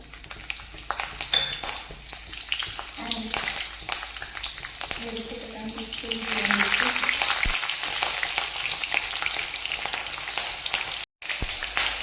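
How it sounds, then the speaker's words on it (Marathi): Green chilies hit hot oil in a kadai, producing a continuous crackling sizzle that swells midway and carries on to the end with brief stirring scrapes. "इथे तेल तापलं आहे आणि आपण मिर्ची घालून घ्यायची आहे"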